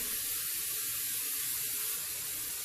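A continuous close hiss of aerosol cooking spray onto a pan for pancakes, steady and fairly loud for a few seconds, with no voices.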